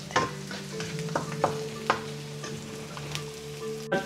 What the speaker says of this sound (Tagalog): Tapos pwede na natin ilagay yung ating squid.